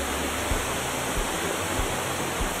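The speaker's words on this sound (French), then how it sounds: "Le coulis de l'eau sur ces belles roches granitiques." The Cascade de la Vierge waterfall pours over granite rocks, a loud, steady broadband rush of falling water heard up close, with no voices.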